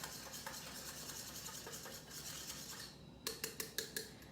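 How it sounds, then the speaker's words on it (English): Dhokla batter with lemon whisked in a mug, first a soft continuous rubbing swirl, then about five quick sharp clinks of the whisk against the mug's sides near the end, close and alone with no talk. "I'm going to again give it a whisk."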